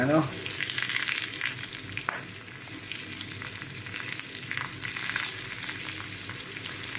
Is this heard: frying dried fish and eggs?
yes